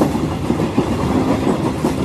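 A moving train rumbles steadily at night, its carriage rocking with a continuous loud low roar and faint rhythmic clatter from the wheels, heard as a background effect in a Bengali horror story.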